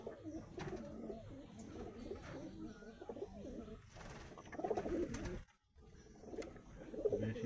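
Pigeons in a loft keep up a steady chorus of soft, rolling coos from several birds nearby, with one brief drop to near silence midway before the cooing resumes.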